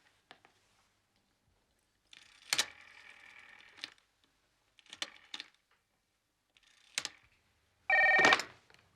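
A telephone rings in bursts of electronic trilling, several separated rings with short clicks and pauses between them, loud and close, ending in a longer ring.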